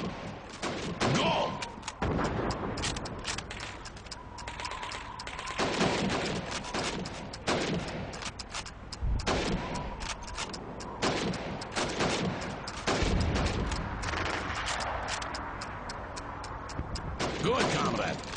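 Rifle shots fired at helmet targets in the Call of Duty 2 training game, with sharp cracks in an irregular series, some close together, under voices speaking during the range exercise.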